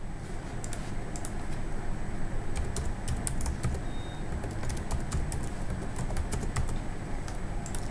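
A name gets typed on a computer keyboard in a form, sharp key clicks landing in irregular bursts over a steady background hum, close and distinct with no speech.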